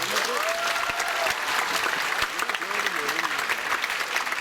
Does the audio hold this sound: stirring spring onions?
no